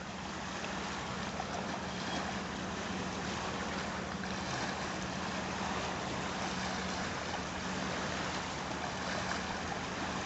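A boat and a jet ski run out on Loch Lomond, heard as a steady distant engine drone mixed with wind and lapping water, continuous and fairly loud with no talking.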